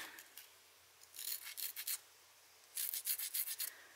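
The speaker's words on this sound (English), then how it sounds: "Let me get my scraper. It's my carbide scraper." Two bursts of short, rhythmic scraping strokes, a carbide scraper rasping across cured sculpting clay with a chalky surface, close by with quiet gaps between.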